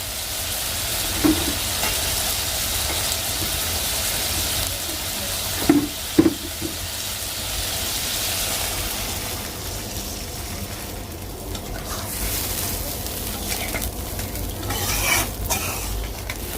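Tangra fish bhuna sizzles steadily in a pan as it is stirred, a constant close frying hiss broken by a few soft scraping knocks of the utensil.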